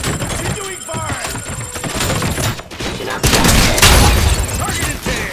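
Gunfire and explosions crash through a Robocop: Rogue City battle, heavy bursts and thuds layered with sharp impacts, a loud surge near the middle, while a voice calls out over the combat.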